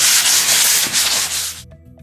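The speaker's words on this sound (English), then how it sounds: "take some 220 grit sandpaper and give it a light sand" Light hand sanding with 220 grit sandpaper over a dried faux concrete plaster finish, a steady loud close rasping rub that stops abruptly near the end, no voices.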